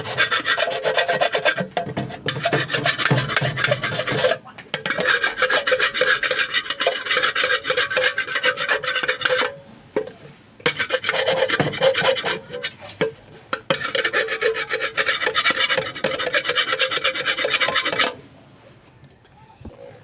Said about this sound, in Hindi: रेगमार के साथ या फिर रेती के साथ आपने थोड़ा थोड़ा इनको साफ़ कर लेना इस तरह